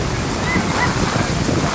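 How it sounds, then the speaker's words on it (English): Close, continuous rush of surf and wind, a heavy broadband roar of waves pounding the shore between Castle Comfort and Roseau the day after Hurricane Maria. "you can hear the waves pounding"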